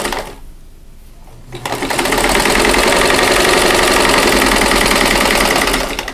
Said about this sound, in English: stitch on the drawn line